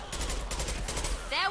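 Rapid gunfire from the Mass Effect 2 shooter, a fast repeating burst of shots, loud and close, with a short whine at the end, and a voice speaking over it.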